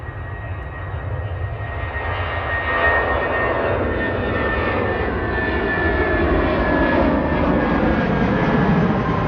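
A jet airliner takes off at Manchester Airport, a loud, steady broadband engine roar with a whining tone that builds slightly and holds close for the whole stretch, with no talk over it.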